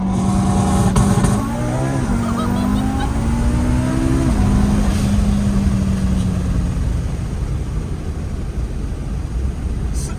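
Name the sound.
car accelerating hard at full throttle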